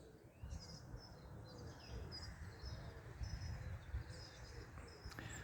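Robins chirp at an allotment in short, high, scattered calls at a moderate distance. Steady outdoor rumble and faint wind noise sit underneath, and there is no talking.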